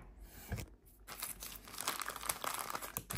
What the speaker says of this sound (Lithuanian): Tai aš čia išpakuosiu.